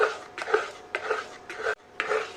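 Raw mango pulp mixture for aamsotto scraped from a pot onto an oiled plate, a series of about five rhythmic metal scrapes and knocks, close and clear with no talk.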